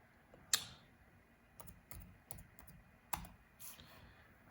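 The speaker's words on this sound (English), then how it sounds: "You can just type in Snap-on." A computer keyboard typed on for a search, giving a handful of sparse, separate key clicks with short gaps between them, close and fairly quiet, with no talking.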